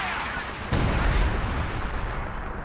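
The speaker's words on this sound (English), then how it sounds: "The artillery firing." Artillery fire in a World War II real-time strategy game match, a single heavy boom that rolls into a sustained low rumble and fades out over a couple of seconds.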